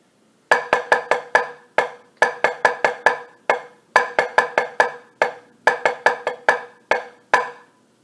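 Single stroke drum exercise at 60 beats a minute, crisp strokes falling in repeated groups of four quick sixteenth notes followed by two eighth notes, played four times with clear gaps, close and alone.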